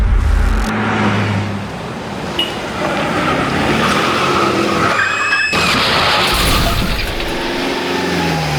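A car skids while turning on a road, its tires screeching loudly and continuously under a low engine rumble for several seconds, close by.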